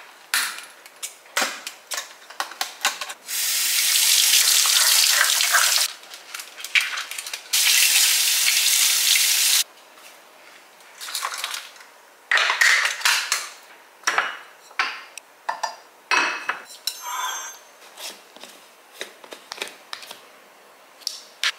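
Dishes washed under a running kitchen tap, two long steady bursts of gushing water between bouts of clattering plates, cutlery clinks and knocks, close and without talk.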